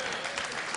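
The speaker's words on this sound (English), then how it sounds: "I thought I'd get an applause out of that" Brief burst of audience applause in a lecture hall during a relationship master class, dense even clapping from a crowd.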